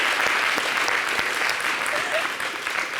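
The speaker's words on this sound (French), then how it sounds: "Est-ce qu'on peut applaudir pour Gliss," A studio audience on a French TV show applauds Gliss with steady, dense clapping that stays loud and continuous throughout.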